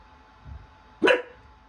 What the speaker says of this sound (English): Sorry, my dog keeps barking.